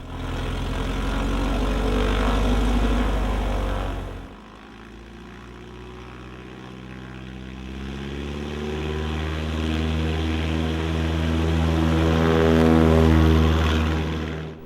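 A Bushwacker Super Cub-style light airplane on its takeoff roll, the propeller engine droning loudly, dipping briefly, then climbing again in a strong rising roar.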